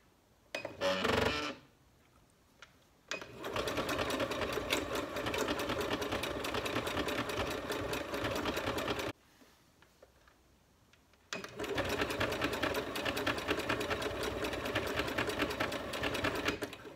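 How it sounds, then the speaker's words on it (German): A sewing machine runs a decorative star stitch along the edge of a homemade guest slipper, its close rapid mechanical whirring in two long continuous bursts separated by a pause, with a brief clunk at the start. "Damit das nachher auch schöner aussieht, gehe ich jetzt hier am Rand mit der Nähmaschine wieder mit diesem"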